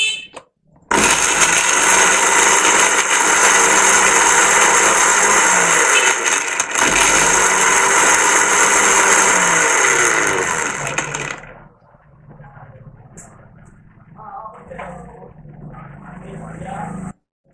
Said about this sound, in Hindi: ये मैंने ग्राइंडर मशीन लगा दी है